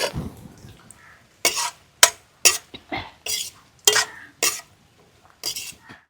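Cooked rice being stirred in a cooking pot produces a series of sharp metal scrapes and clanks from a ladle, spaced irregularly with quiet gaps between them.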